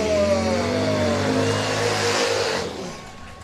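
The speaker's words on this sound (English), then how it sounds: "I hope you guys can hear that, those engines ripping by our booth." Harley-Davidson race motorcycles roar past a commentary booth at a beach racing event, a loud, close engine drone with pitch sliding downward as they pass, fading slightly at the end.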